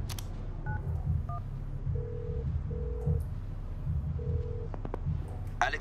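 A telephone being dialed to make a call, a series of short electronic keypad tones pressed one after another at an uneven pace over a low background hum.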